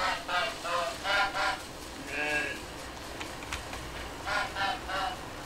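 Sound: goose honking in video game Force of Nature 2

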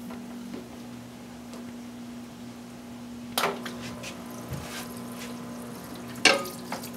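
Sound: parts washer pump running, spraying liquid

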